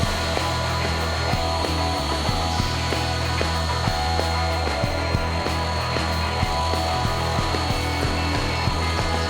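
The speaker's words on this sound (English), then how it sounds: "Back at the router table, install a Roman ogee bit to add a little decorative touch to the oval and the" A router table fitted with a Roman ogee bit cuts a decorative edge on wood, a loud continuous motor whine with a steady droning hum and small rhythmic ticks throughout.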